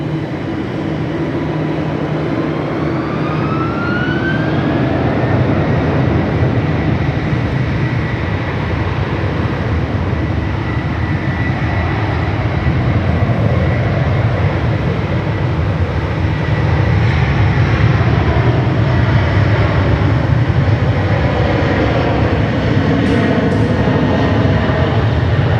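An airliner taking off from runway 16 right at Sydney Airport: a loud, sustained jet roar builds with a rising whine early on, then holds as a broad, steady rumble across the whole stretch, close and dominant.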